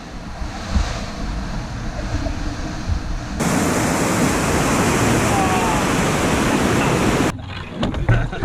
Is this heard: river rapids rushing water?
yes